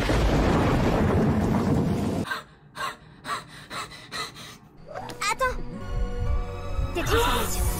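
Loud rain with rumbling thunder from the animated show Miraculous Ladybug fills the first two seconds, then cuts abruptly to quieter, broken sounds with breathy gasps and voices.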